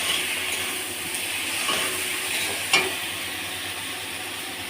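Spice masala with chili powder fries in a pan, a steady close sizzle with a few scrapes and one sharper clink as it is stirred.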